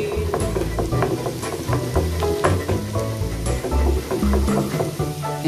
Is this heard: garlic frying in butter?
yes